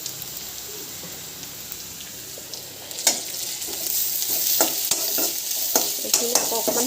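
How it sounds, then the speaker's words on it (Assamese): Onions browned with ginger-garlic paste fry steadily in a pan, a continuous close sizzle broken by repeated sharp scrapes and clacks of a spatula stirring, growing busier toward the end. "এইখিনি আকৌ অকণমান ভাজি ল'ব লাগিব"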